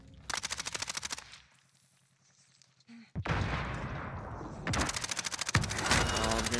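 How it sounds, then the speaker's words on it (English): Rapid automatic rifle fire in Call of Duty Warzone gameplay, loud close bursts at the start, a quiet gap, then dense sustained firing and explosive noise toward the end. "Oh, I'm getting shot from behind"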